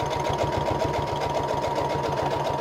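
Steady rapid needle chatter from a sewing machine stitching down the sides of a paper pocket made from old ephemera, running continuously at an even mechanical rhythm, close and fairly loud.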